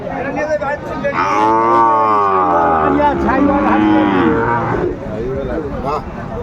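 A cow moos loudly and close by at a cattle market in Aftabganj, a long drawn-out low call followed by a shorter one, with faint crowd noise behind.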